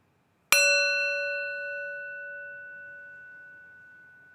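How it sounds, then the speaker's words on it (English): A single meditation bell is struck once, a clear ringing tone with bright overtones that sustains and slowly fades over several seconds, alone in a quiet room. "let's warm up the bell"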